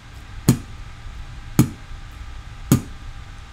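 A mouth imitates a kick drum with a hard, percussive letter B burst from the lips, three punchy thumps evenly spaced about a second apart, close and dry with no talking.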